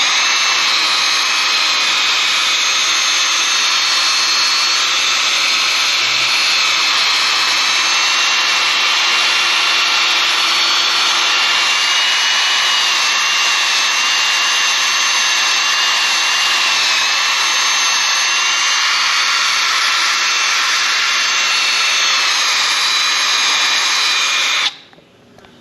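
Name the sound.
drill brush scrubbing car underside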